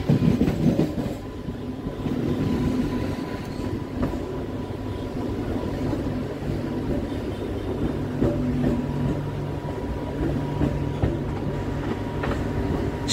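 A Howrah-Midnapore local train rolls along rails on a line in West Bengal, heard from on board as a steady, loud rumble with rhythmic clatter of wheels over the track throughout and no voices.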